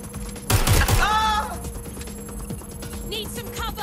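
A loud, close volley of gunshots in Watch Dogs Legion bursts out briefly, then fades into a quieter backdrop while a voice speaks.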